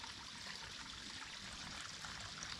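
Clean water is poured out in a steady, soft, hissing trickle at a camp in the wild, faint and continuous, with no talking.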